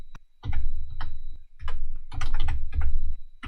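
Keystrokes on a computer keyboard tapped in quick bursts of clicks with short pauses between groups, close and clear with no talking.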